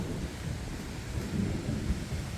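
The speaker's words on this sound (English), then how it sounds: "That is quite a storm rolling in." Deep, steady rumble of a thunderstorm moving in over a backyard garden, with a wash of rain and wind, continuous and fairly loud with no one speaking.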